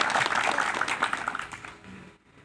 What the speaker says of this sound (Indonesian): Terakhir tepuk tangan untuk saya.